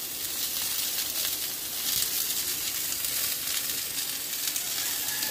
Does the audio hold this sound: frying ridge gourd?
yes